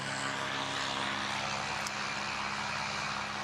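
Propeller aircraft at Christchurch Airport, a steady droning engine hum heard at a moderate distance, constant and unbroken throughout with no talk.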